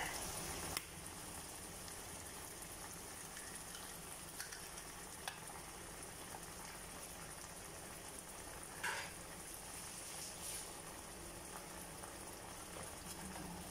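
Eggs being stirred in a pan while cooking: a quiet, steady sizzle with occasional soft scrapes and clicks of a utensil, continuous throughout.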